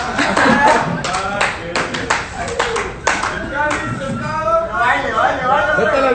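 Lively group clapping at a festive inauguration, sharp hand claps in bursts over excited chatter and singing voices, loud and close with crowd noise throughout.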